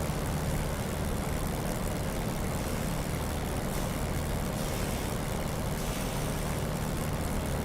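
A flight simulator aircraft engine runs at about 1400 revs, a loud, dense, steady drone and rumble that holds evenly from start to finish without speech.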